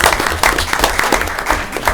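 Audience applause at a City of San Angelo Development Corporation board meeting honoring a departing board member, a short burst of dense, loud clapping from a room of people.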